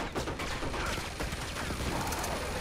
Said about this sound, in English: Oh yeah, and machine gun turret.